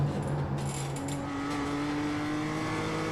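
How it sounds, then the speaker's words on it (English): A damaged BMW M2 Cup race car at Lime Rock drones steadily, its engine holding a sustained tone with a rising pitch line and a mechanical rattle underneath, loud and close throughout. "I can hear the car has some damage here"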